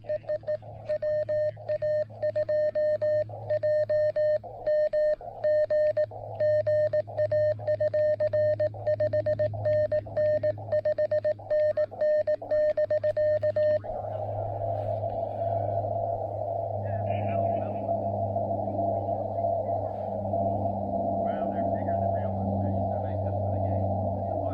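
An amateur radio station during a Parks on the Air activation carries a tonal signal with rhythmic, beeping keyed tones that stops abruptly midway, leaving a steady hum and static with faint, muffled voice-like sounds underneath.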